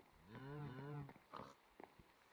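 Cows mooing in Minecraft, a long low drawn-out moo rising and falling for about a second, followed by a few softer short grunting calls and clicks, with no talk.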